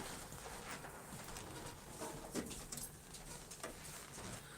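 Pigeons or doves cooing outdoors on a cold morning, soft and fairly distant calls scattered over a quiet background with faint patter and small rustles, no voices.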